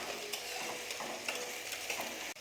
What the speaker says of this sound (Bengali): মাশরুমগুলোকে একটু নেড়ে ভেজে নেব এর সাথে